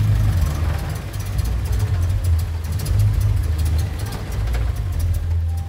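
A Datsun 120Y with an L18 engine and a new manifold runs with a loud, steady low rumble throughout, its pitch swelling slightly at moments as it is revved.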